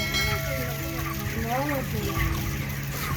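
Chickens in a broiler shed on a contract poultry farm cluck and call over a steady background hum, the calls close and overlapping.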